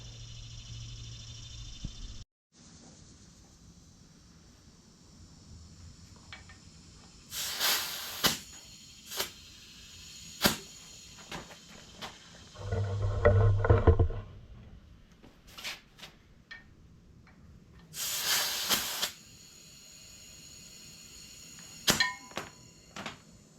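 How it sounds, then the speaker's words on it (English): The front tire of a 1979 Honda GL1000 motorcycle, low on air, gets a pressure check: two short bursts of air hiss from the valve, close by, between scattered light clicks and taps from the gauge, with no talking. "I'm just going to check the air pressure and then get ready to put oil back in."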